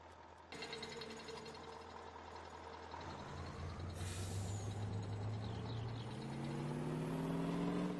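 A truck in Farming Simulator 19 idles and then revs, its engine tone climbing steadily. A sharp air-brake hiss cuts in partway through, all heard close and on its own.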